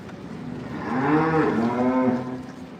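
An Angus cow that has just calved lets out a single loud, drawn-out moo close by, swelling in the middle and fading at the end, with no talk over it.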